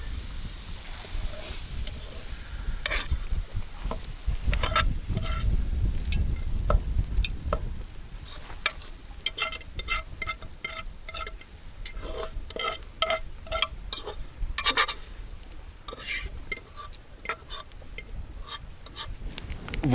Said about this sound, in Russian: У нас тут кипит конкретно все.